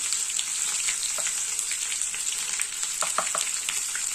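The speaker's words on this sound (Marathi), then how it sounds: "अद्रक लसूणची पेस्ट तळत आहे." Ginger garlic paste fries in a pan for a ridge gourd curry, producing a continuous bright sizzle with scattered clicks of a spoon stirring, steady and close, no speech.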